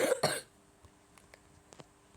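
Two quick, harsh coughs right at the start, close by, followed by near silence with a few faint clicks.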